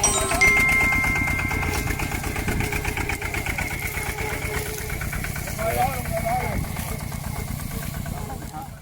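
A New Tech tractor pulling a three-disc plough through corn and cabbage fields in the high hills of Phu Chi Fa, Chiang Rai, runs with a steady, rhythmic chugging engine drone that holds throughout.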